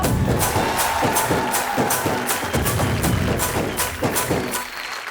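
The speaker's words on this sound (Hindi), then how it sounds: "मेरे लिए ताली बजाओ।" An audience claps for a contestant at a televised game show, dense continuous applause sustained at close, loud level throughout and thinning only slightly at the very end.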